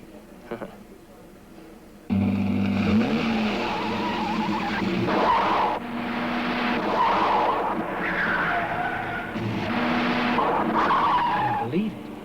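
Car tires skid and squeal in a 1990 action film as engines rev near a racetrack, with long, loud screeching bursts after a quiet opening, and voices speaking over parts of it.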